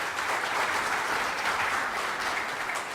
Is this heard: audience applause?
yes